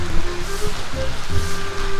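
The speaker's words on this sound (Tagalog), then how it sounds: "ang lakas pa rin ng ulan" Heavy rain pours steadily during a flood relief operation in Cofradia, Malolos, a dense broadband wash with faint distant tones and low rumbles underneath, no speech.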